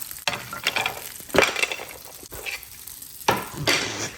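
Chorizo omelet frying in a pan, a close continuous sizzle broken by scraping stirs and clinks of utensil against the pan.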